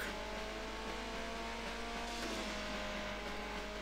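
A race car engine drones steadily in a drag race in the video game Need for Speed Underground 2. A continuous, loud tone with a slight pitch shift holds throughout, backed by broad noise.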